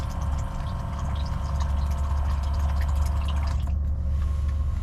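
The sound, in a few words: USB water pump filling water jug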